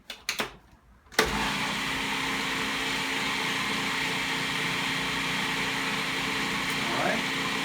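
Hummus spins in a blender that starts after a few short clicks and handling noises, then runs at a constant loud whirring drone that holds steady to the end.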